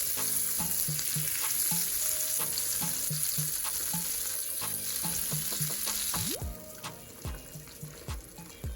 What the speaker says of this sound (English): And we'll get this butter melted before we start.